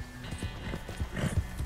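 Horse hooves clip-clop in a western cowboy video game, a quick, steady run of muffled hoofbeats at close range with faint background game ambience.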